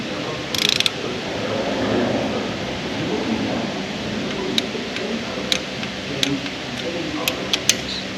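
Clamp-down bolts on the diesel injectors of a Mitsubishi Triton with the 4M41 3.2L engine being tightened with a torque wrench, heard as repeated ratchet clicks and a few sharp metallic snaps over a steady noisy background.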